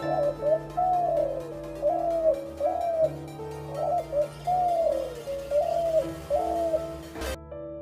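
A spotted dove coos in a steady, repeated rhythm, about eight soft hooting phrases spaced evenly over a low background hum, clear and fairly close.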